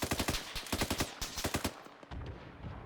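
Enemy gunfire in Arma 3 rattles off in rapid bursts of sharp automatic shots, loud and close, pausing briefly before another volley and then trailing into a rumbling echo.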